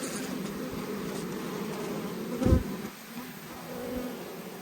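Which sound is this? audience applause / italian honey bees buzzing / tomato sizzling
italian honey bees buzzing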